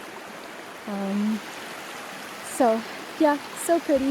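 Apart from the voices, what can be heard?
Moshannon Creek flowing through the woods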